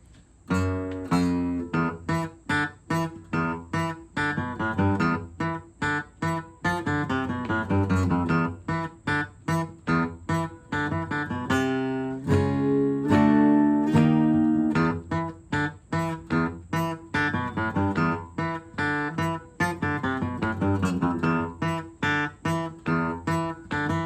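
Bright, metallic acoustic guitar picked hard and staccato near the saddle with mostly downstrokes, short clipped chords and single notes in a steady driving rhythm, played alone and close.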